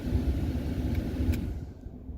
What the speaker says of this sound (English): I now know I have power to the fan motor. It's running in high.